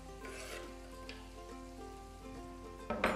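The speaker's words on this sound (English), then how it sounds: "Now it's time to add in our chopped tomatoes." Finely chopped tomatoes, nearly six of them, go into a pan of sizzling spices for Lahori murgh cholay, giving soft, close frying crackle with a louder burst of sizzle near the end.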